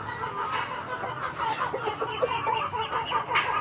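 A flock of native chickens clucks busily and continuously nearby, overlapping calls crowding together with a few sharper squawks standing out.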